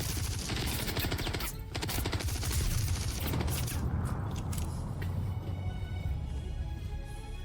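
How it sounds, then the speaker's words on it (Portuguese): Rapid automatic gunfire from a weapon in the Star Citizen video game, a dense, loud crackling burst of shots with clattering tails that thins out toward the end, heard alone. "que barulho que essa arma faz"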